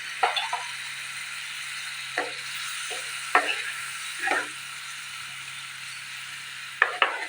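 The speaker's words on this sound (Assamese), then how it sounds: "আৰু 2 মিনিট সময় ভালদৰে ভাজি ল'ম।" Raw banana curry with ginger-garlic paste being stir-fried in a pan: a steady low sizzle with short, separate scrapes of the spatula every second or two, close and fairly quiet.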